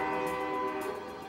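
A port vessel sounds a prolonged whistle blast, a steady, tonal horn note holding loud and unbroken throughout the short stretch.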